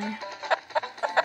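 Chickens cluck in a stickman video game, a quick series of short, sharp clucks at an even pace, fairly quiet and heard clearly with no talk over them.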